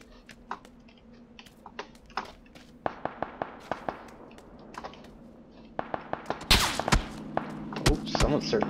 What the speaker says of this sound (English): Someone's certainly shooting at me.